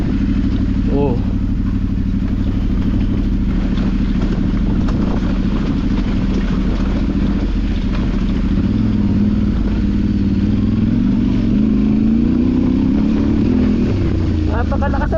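Motorcycle engine droning loud and steady close by on a rough mountain road, its pitch rising and falling with revs, while people talk over it.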